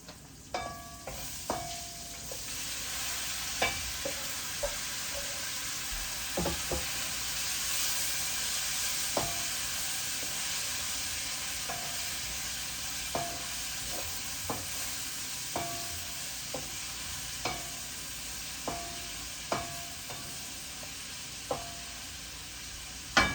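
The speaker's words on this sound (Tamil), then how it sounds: "வெங்காயம் வதங்கிட்டுது, கோவாவை போட்டு வதக்கி கொள்ளுவோம்" Cabbage sautéing with fried onions in a pan, a steady soft sizzle broken by repeated light clicks and scrapes of a spoon stirring, close and moderately quiet with no voices.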